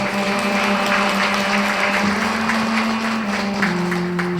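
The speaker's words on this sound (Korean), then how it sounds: "다시 한번 좋은 강의를 해주신 신부님께 감사의 박수를 한 번 더 부탁드리겠습니다" A church congregation applauds a priest after a Lenten lecture on forgiveness at a parish, steady massed clapping filling the room with a sustained tonal hum running beneath it throughout.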